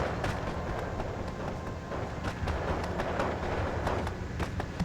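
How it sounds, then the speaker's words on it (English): Heavy artillery fire in the Steel Division 2 war game, a dense rumbling barrage with repeated sharp booms and crackles over a constant low roar of battle noise. "Here's the heavy artillery there"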